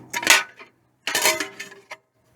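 Metal camping cookware from a motorcycle cooking pannier bag clanks and rattles in two short bursts, a pot and collapsible bowl being handled close by, with a final small clink and no talk.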